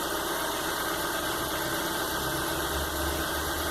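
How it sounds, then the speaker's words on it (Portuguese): A GM Onix car engine idles steadily after its idle control has been adjusted, a continuous low rumble with an even vibration and no talk over it. "Então tá ajustado aí o controle de marcha lenta."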